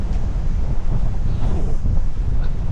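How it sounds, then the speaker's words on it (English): Wind blowing hard at a Queensland free camp on the coast, a loud continuous rumble buffeting the microphone with no break and no voices. "get on the high side of the wind"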